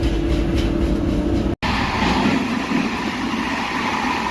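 A train running on rails on a rail journey toward Marrakesh, with a steady loud rumble and rolling noise throughout and a brief dropout partway through.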